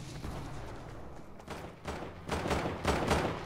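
Suppressed pistol fire in a video game: several muffled, sharp reports that grow louder and more frequent toward the end, with no voices.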